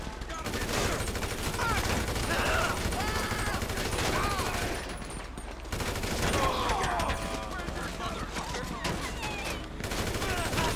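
Sustained gunfire rattles in dense volleys through a noisy, chaotic scene. Busy background commotion and shouting run beneath the shots.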